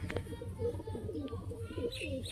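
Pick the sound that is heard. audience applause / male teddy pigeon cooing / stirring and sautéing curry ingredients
male teddy pigeon cooing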